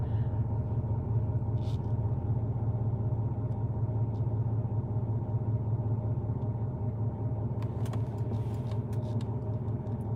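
A rough-running fixer-upper car engine in need of a fuel pump idles with a constant low rumble and uneven mechanical drone, loud and close, with a few faint clicks and rattles near the end.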